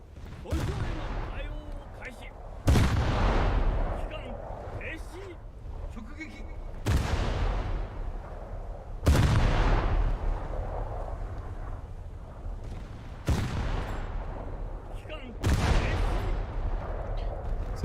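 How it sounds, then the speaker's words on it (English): Naval guns firing in the World of Warships naval combat game, a run of six heavy booming salvos spaced a couple of seconds apart, each with a long rumbling tail over continuous background battle noise. "Let's try and get all 5 guns firing."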